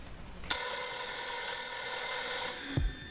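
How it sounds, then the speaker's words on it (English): An old-fashioned telephone bell rings loudly in one long continuous metallic trill on a stage during a fifties-themed evening show, then cuts off abruptly with a thump. "Answer the telephone."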